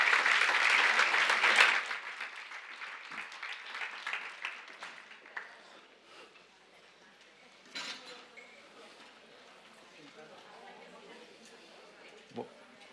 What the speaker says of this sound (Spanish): Un fuerte aplauso para José Manuel Morales